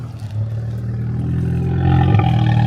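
A 2019 Volkswagen Jetta's engine roars close by, a low droning rumble that builds steadily louder as the revs climb, with a faint clatter near the end.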